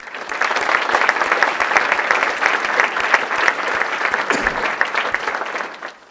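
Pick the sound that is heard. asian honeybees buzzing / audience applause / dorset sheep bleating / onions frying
audience applause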